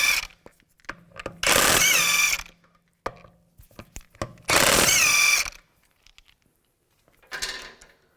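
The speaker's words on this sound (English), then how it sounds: "use a 17mm socket. Take these lug studs out." Two long, loud bursts of an impact tool spin lug bolts out of a 2004-2010 BMW X3 wheel with a 17 mm socket, the tool running alone for about a second each time, with a shorter third burst and scattered clicks between.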